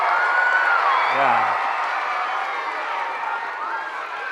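A group of children cheer and shout together during an interactive story reading, a short burst of excited voices that fades into a softer crowd murmur, with one voice calling out over it.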